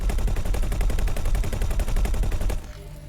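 Rapid automatic spaceship gunfire in the space game X4 Foundations, a dense, loud, evenly spaced burst of shots lasting about two and a half seconds before cutting off into a faint hum.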